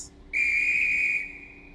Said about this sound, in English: Whistle. Close doors.